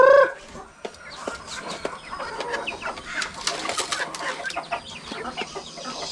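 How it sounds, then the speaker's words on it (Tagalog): Farm chickens cluck and squawk, with a mother hen fending off her chicks, producing a busy scatter of close clucks, peeps and wing flutters with one louder call at the start. "Inaaway nung inahin."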